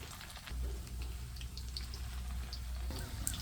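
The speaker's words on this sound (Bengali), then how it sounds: "চুলার তেলটা গরম হয়ে গেছে, এখন ছোট ছোট করে এরকমের বড়া শেপে দিয়ে দিব" Small shrimp fritters slipped into hot oil give off a soft, steady sizzle with scattered faint pops, quiet and close throughout.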